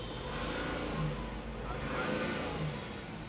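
Diesel engine of an Ashok Leyland Dost XL light truck revving, a steady mid-pitched drone rising and falling slightly in two swells, close and loud.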